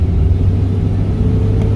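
A Ford Mustang's engine idles with a deep, steady, loud rumble, close and continuous with no change in pitch and no talk.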